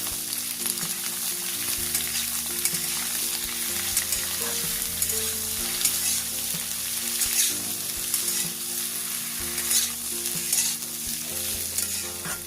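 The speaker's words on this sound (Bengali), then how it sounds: "সিমটাও দিয়ে দিচ্ছি বেগুনটাও দিয়ে দিচ্ছি এবারে খুব ভালো করে নাড়াচাড়া করে ভেজে নেব" Flat beans, eggplant and pumpkin fry in a pan for a drumstick-flower dish, giving a steady, close sizzle with continual stirring and scraping and no voices.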